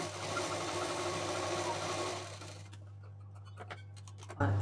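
A sewing machine stitches lace onto a small fabric sling bag, running in a steady close whir for about two seconds before stopping, followed by quieter clicks and handling noises with a low hum underneath.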